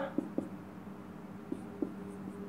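Chalk taps and scrapes against a blackboard during a Class 10 math lesson, a handful of short, sharp strokes spaced irregularly over a quiet room background, fairly faint.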